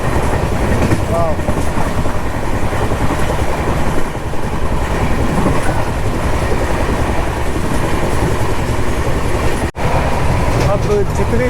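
Inside a moving Vaishali Superfast Express coach on Indian Railways, the ride makes a loud, continuous rumble with wheel clatter throughout, and voices murmur faintly in the mix.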